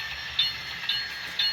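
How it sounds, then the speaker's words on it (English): Small HO scale model train running on a home layout, a steady high whirring with light periodic clicks roughly every half second as it rolls over track joints, close and continuous. "And it might help if I stop this train, wouldn't it?"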